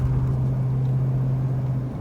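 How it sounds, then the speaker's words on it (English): Steady low engine drone and road rumble inside a 1980 Pontiac Trans Am Bandit Special Edition cruising over a bumpy road, a constant hum without any talking. "This is a very bumpy road. Although it may sound loud in the viewfinder, this is relatively a very quiet, very comfortable, firm ride."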